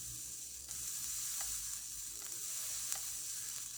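Continuous crackling sizzle with a few sharper pops in short bursts, close and fairly steady, from a freshly cleaned, still-wet coil in a Wotofo Elder Dragon vape pulsed at about 40 watts.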